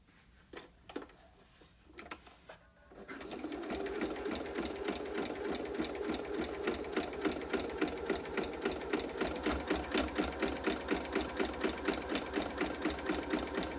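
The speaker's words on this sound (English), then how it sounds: "Not a good day for the sewing machine, it would seem." A sewing machine starts after a few scattered clicks and then runs steadily at speed, a close, fast mechanical chatter with an even rhythm and no talking.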